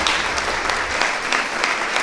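Audience applause at a municipal signing ceremony for co-funding contracts with local societies in Brežice, a dense, steady patter of many hands clapping close by, filling the whole stretch.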